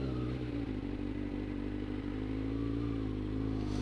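A motorcycle engine drones close by in a steady, continuous roar with a low rumble and faint clatter, holding an even level for a few seconds with no speech.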